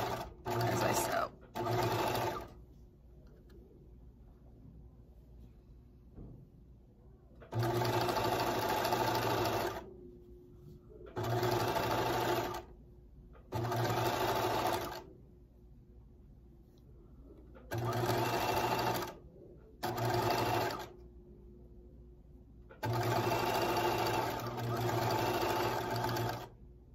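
A sewing machine stitches a seam on a fleece pullover in repeated bursts of steady whirring, each a few seconds long and separated by quiet pauses, fairly close and clear.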